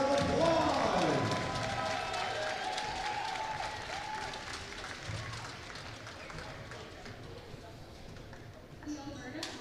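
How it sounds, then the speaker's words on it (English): A crowd at a women's college basketball game claps for the Alberta Summer Games 2023 gold medal team, loud at first and then tapering off, with voices and gym noise around it. "We give the Alberta Summer Games 2023 gold medal to one more big round of applause."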